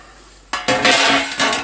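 A metal part from a 1964 Evinrude outboard's points and carburetor is dropped into a metal pot, giving a sharp clank followed by several close, loud rattling clinks as it settles.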